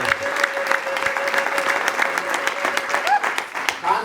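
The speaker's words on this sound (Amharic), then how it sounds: "አጨብጭቡ ለዚህ ጌታ" Audience applause at an Amharic religious gathering, a dense, steady wash of many hands clapping that carries loudly through the whole stretch, with a few louder claps and a faint voice near the end.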